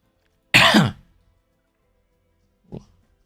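A person loudly clears their throat once in a rough burst, then, after a pause of silence, gives a short, quieter cough.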